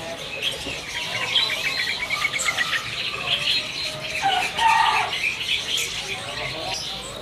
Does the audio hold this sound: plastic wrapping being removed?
no